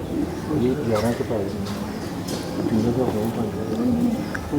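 Low, throaty coos of an old breeder pigeon, about 10-12 years old, roll on repeatedly, close and clear, with a voice speaking in the background.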